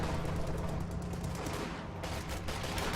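Rapid automatic gunfire from an infantry support gun in a video game, a dense, continuous crackle of shots running steadily for several seconds at close range with no talk.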